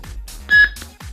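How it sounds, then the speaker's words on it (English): A Vector Saber lightsaber gives a single short electronic beep while its sound fonts are being switched with the saber off, set against low pulsing hum-like bursts. "I hear a beep."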